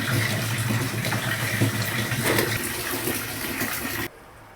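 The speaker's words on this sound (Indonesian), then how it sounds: "Kita langsung buang airnya." Water gushes out of a gold panning dish as it is emptied, a loud steady pour that runs for about four seconds and then stops abruptly, leaving quiet background.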